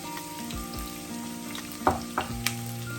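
Chopped onion dropped into hot oil with popped mustard seeds, a steady sizzle broken by a few sharp clatters and scrapes of a spoon against the pan, close by.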